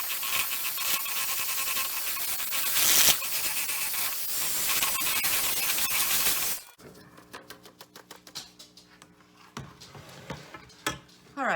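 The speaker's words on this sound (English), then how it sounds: "do what I'm gonna do and use a hand mixer" An electric hand mixer whirs steadily through bath bomb ingredients for about six and a half seconds, loud and close, then cuts off, leaving quieter scattered clicks and light handling sounds.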